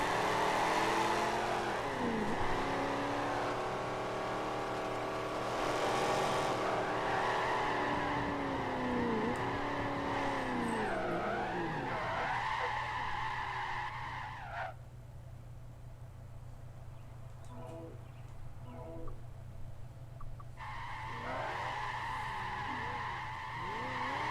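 A gray Chevrolet Camaro ZL1 in a virtual Formula Drift racing game at West Palm Beach screams through a drift, its engine revs climbing and falling with tire squeal, then briefly drops away before roaring back.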